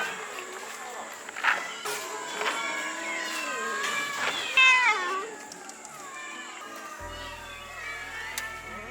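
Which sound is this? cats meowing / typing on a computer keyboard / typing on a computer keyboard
cats meowing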